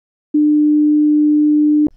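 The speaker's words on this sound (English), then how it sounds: "This here is a simple sine wave." Pure sine wave tone, a single steady low pitch that starts abruptly, holds unchanged at a loud level for about a second and a half, then cuts off with a small click.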